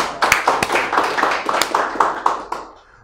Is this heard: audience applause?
yes